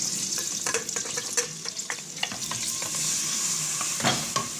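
Square-cut chicken pieces fry with salt in olive oil in a pot for poulet basquaise, a dense continuous sizzle broken by close stirring clatters, with no talk.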